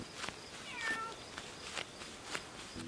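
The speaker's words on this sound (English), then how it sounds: "She's meowing over here" A cat meows a few times nearby, short repeated calls over quiet room noise.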